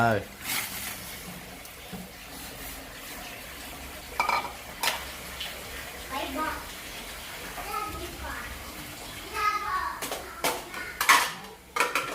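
Pork going into a pan while cooking spicy Thai lime pork, with clinks of utensils against cookware, stirring scrapes and a low background sizzle, under someone talking.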